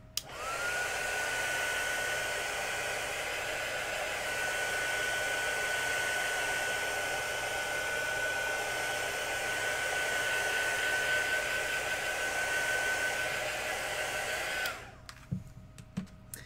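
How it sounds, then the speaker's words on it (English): Hair dryer running steadily at close range while drying acrylic paint on a flag and fireworks artwork, a continuous loud whir with a steady whine lasting about fourteen seconds before it switches off abruptly. "All right, so here we go, dryer again."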